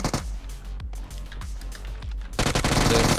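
Rapid automatic gunfire in a PUBG Mobile match on a Bedwars-style map, bursts of shots in quick succession, loud and close, growing denser and heavier toward the end.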